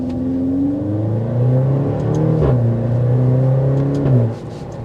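A 2023 Maserati Grecale GT with a 2.0-litre four-cylinder turbo engine accelerates hard, its loud exhaust note climbing steadily in pitch, dropping briefly at each gear change before rising again, then easing off at the end.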